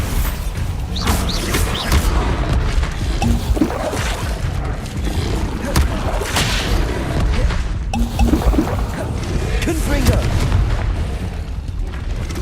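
Bombarda blasting spells exploding during a fight with goblins in Hogwarts Legacy, several loud booming bursts with crackling debris over dense combat noise, with a player voice briefly mixed in.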